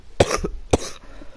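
Two sharp, close coughs about half a second apart from a man, loud and isolated with no talk over them.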